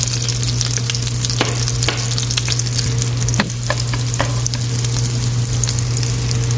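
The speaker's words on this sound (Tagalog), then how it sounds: "igigisa natin ang ating garlic hanggang sa hindi lumabas ang kanyang aroma" Garlic sautés in melted butter in a pan, giving a loud, continuous sizzle and crackle close up, broken by a few sharp pops and soft stirring scrapes, with no voices.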